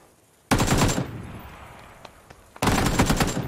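Two loud bursts of automatic gunfire in PUBG, a rapid rattling string at the start and another near the end, with fainter scattered shots and a decaying echo in between.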